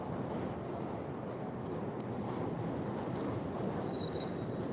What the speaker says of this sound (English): Train just went over the top of us.